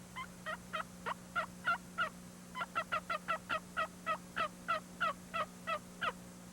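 A slate box turkey call, a striker rubbed across slate inside a box, imitates a hen with a series of raspy yelps in evenly spaced bursts, clear and close against a quiet background hum.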